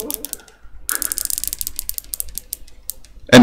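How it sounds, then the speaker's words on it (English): A replica watch's rotating bezel clicks in a quick run of small, sharp ratchet ticks, loud and close-up, after a brief earlier burst of clicks. "They have a rotatable bezel like this. You can hear it here."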